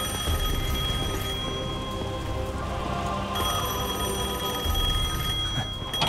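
An old telephone in Devil May Cry 5 rings with a bright, continuous metallic bell, loud and steady over low game ambience.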